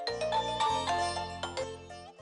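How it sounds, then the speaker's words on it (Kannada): A mobile phone rings with an incoming call, playing a bright electronic melodic ringtone of repeated chiming notes over a short steady loop, fairly close and alone. "ನೋಡಿ, ಕಾರ್ತಿಕ್ ಅವರು ಫೋನ್ ಮಾಡಿದ್ದಾರೆ."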